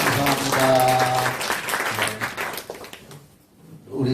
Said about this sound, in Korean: 하나님 감사합니다 하고 박수 한번 칩시다.